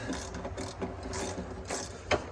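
A ratchet fitted with a 19 mm socket works the oil drain bolt on a 2009 Ford F550 with a 6.4 Powerstroke, producing continuous fast close clicking of the pawl with a sharper knock near the end.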